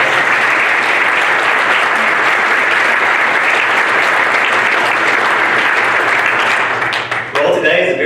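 Dense, steady applause fills a hall at a sports hall of fame induction ceremony, a large audience clapping loudly and continuously before tapering briefly near the end as a voice begins to speak.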